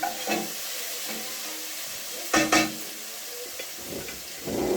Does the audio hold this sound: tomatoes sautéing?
yes